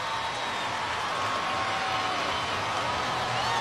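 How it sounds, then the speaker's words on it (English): Monster Jam stadium crowd during a freestyle event, a dense, steady roar of distant cheering filling the space evenly, with faint voices and a light whistle-like tone drifting through. "And listen to this crowd."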